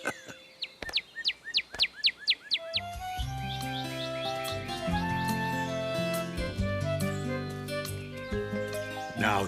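A cartoon bird calls in a sunny garden with a quick run of bright, repeated chirps for a couple of seconds before music takes over and plays to the end.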